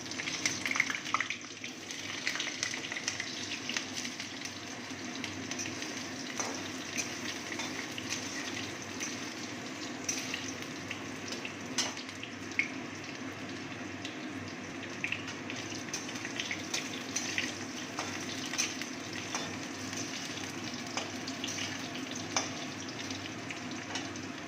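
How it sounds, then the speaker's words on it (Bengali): Steady sizzle of nigella seeds and cut potatoes frying in hot oil, a continuous loud crackle with faint stirring clicks throughout, no voices. "তেলটা গরম হয়ে গেছে, এবার আমি ফোড়নের জন্য কালো জিরে দিয়ে দেব। তারপর কেটে রাখা আলুটা দিয়ে দেব।"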